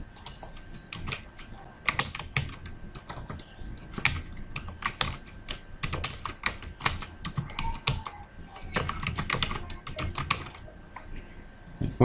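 Typing on a computer keyboard while filling in an online birth certificate correction form: quick, irregular clicks and key taps, close and clear, with brief pauses between bursts and no talk.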